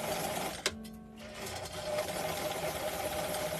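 Sewing machine stitching the end crotch seam of a garment joined at the two back pieces, a steady continuous hum with a brief click and pause near the start before running on evenly, close and alone without talk.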